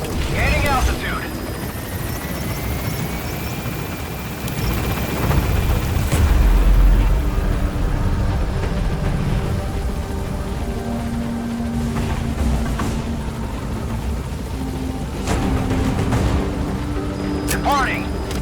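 An extraction helicopter lifts off and departs in Metal Gear Solid V: The Phantom Pain, a steady loud rotor and engine roar filling the scene with game effects and radio voices over it.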